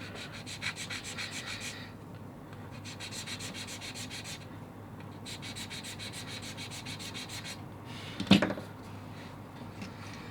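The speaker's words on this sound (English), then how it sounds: "to make sure it's all flat, I'll just use this jewelry file here" A jewelry file rasps back and forth over a small plastic part to flatten it, soft close strokes in several bursts with quiet gaps and one sharp knock near the end.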